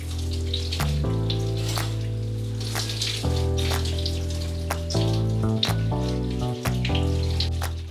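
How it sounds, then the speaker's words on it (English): A steady stream of tap water pours over hair being wetted for a wash, a continuous close splashing with irregular spatters and drips. A low hum runs underneath and no one speaks. "So first, obviously, I get the hair wet."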